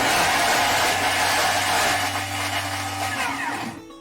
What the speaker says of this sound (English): let's spin it. Speed 8, 3 seconds is what it's going to chop.